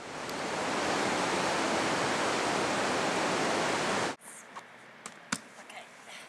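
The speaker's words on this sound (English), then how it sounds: "We're at the inlet stream for Ediza Lake" Rushing mountain stream at the inlet to Ediza Lake, a loud steady broadband roar of water filling the first four seconds, then cutting off abruptly to quiet outdoor background with a few faint scattered clicks.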